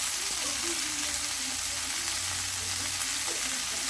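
Sweet onions fry in a pan with a dense, steady hiss of sizzling oil, loud and close, lasting unbroken throughout.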